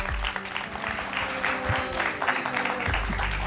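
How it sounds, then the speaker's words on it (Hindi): Studio audience applauding to welcome a guest singer on a Hindi devotional TV show, dense clapping throughout with a brief voice near the end. "जोरदार तालियों से अभिनंदन करिए लक्का जी का"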